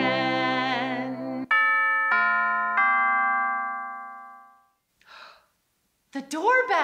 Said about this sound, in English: The doorbell. I wonder what gift we got today.